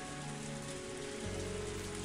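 Steady downpour of rain in the horror visual novel Higurashi When They Cry, a dense hiss of drops drumming on surfaces that thickens and deepens partway through, continuous with no voices.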